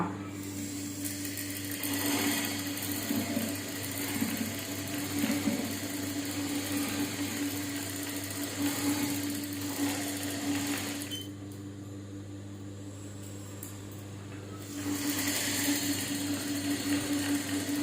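Sewing machine stitching over a burnt saree, a steady close mechanical whir with a constant hum, pausing briefly around the middle before running again.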